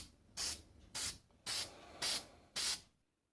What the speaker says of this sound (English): The primer dried and I spray it with paint.